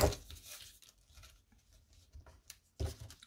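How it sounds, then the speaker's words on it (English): Quiet crinkly snips and rustles of scissors cutting a small piece of star foil, several short bursts separated by pauses, close by with no talking. "cut off a little piece of the star foil"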